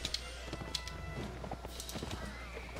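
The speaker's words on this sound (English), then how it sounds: "Cavalry charge." Horse hooves gallop in the video game Mount & Blade Warband, a quick clattering rhythm amid battle noise with sharp metallic hits, fairly loud and close, with no speech.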